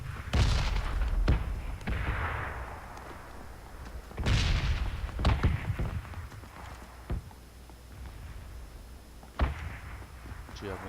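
A shooting video game fires sharp gunshots and a booming explosion in irregular bursts, loud and close, with a voice talking over them.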